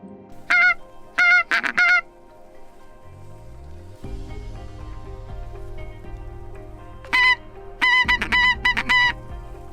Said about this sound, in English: there's such a volume of geese just over the back of the hill here calling